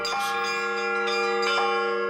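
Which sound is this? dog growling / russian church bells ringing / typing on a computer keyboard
russian church bells ringing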